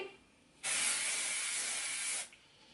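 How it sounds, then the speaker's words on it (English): Hairspray sprayed onto curled hair in one continuous close hissing burst lasting about a second and a half, with quiet before and after. "I'm going to go in with my spray."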